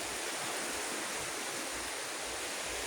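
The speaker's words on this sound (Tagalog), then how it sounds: "malalaki mga alon guys kasi open kasi siya guys open pwede mag surfing" Big waves crashing onto a wide, open sandy beach, heard as a steady, dense roar of surf close by with no voices.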